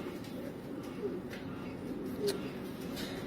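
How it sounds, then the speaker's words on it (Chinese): A racing pigeon, thin and muddy-footed after returning 20 days late from a 350 km race, gives low soft coos, faint and close, over a steady background hum. "这一只鸽子是放350公里没回来的"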